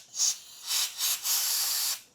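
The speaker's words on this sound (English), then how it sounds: "you can hit it with some computer duster or even hit it with your air hose on your compressor" Compressed air blasts through a drilled-out PCV valve from a GM 3.6 engine, likely from a computer duster can or compressor air hose: four short hissing bursts, the last held for about half a second, close and clear with no talk.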